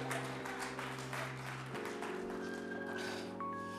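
A church congregation claps as an offering to the Lord, a dense, steady patter of many hands under sustained organ or keyboard chords, fading slightly toward the end.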